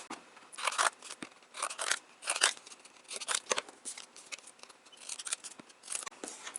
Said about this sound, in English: all you have to do is just cut triangle shapes